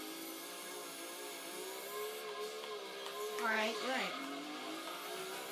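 A race car engine in the Gran Turismo 2 video game drones steadily at a moderate level, with a brief rising rev and tire squeal near the end, while a voice speaks briefly over it.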